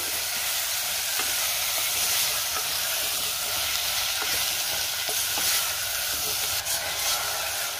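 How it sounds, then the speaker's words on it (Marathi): Potato pieces with spices, for a moong dal and potato curry, sizzle in a frying pan while being stirred, a loud steady hiss with faint scraping scrapes throughout. "आता हे सगळं व्यवस्थित मिक्स करून घेऊया।"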